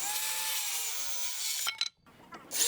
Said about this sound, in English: And then we're going to cut two additional pieces for the sides.